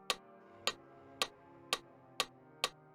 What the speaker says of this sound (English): get one that has a click, as you can hear, and you guys can change the tempo